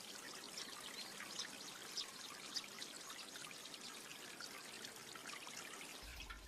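Water flowing steadily along a village channel in Satoyama, Japan: a continuous, close trickling and pouring with small splashes and droplets, no voices.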